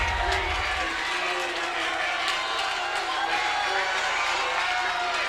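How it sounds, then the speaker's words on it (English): Crowd of Red Hawks supporters at a high school boys' state swimming finals clapping approval after their swimmer wins the consolation final, a steady wash of applause and cheering echoing around an indoor natatorium. "The Red Hawks clapping approval as their guy wins the consolation final."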